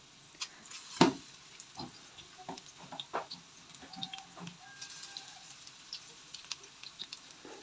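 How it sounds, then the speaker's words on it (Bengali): Potato and semolina pakoras fry in hot oil over a slightly below-medium flame, giving soft, irregular crackles and pops with one sharper spit near the start, all faint and close. "প্রথমে তেলটা গরম করে নিয়েছিলাম, এখন আমি এক এক করে সবগুলো দিয়ে দিচ্ছি।"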